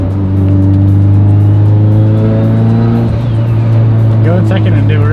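A manual-transmission car from a personal collection runs with a steady, loud engine hum that dips partway through, then rises again as it pulls away, with some talk faintly heard near the end.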